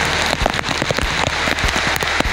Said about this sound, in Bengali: প্রচণ্ড বৃষ্টি হচ্ছে, প্রচণ্ড।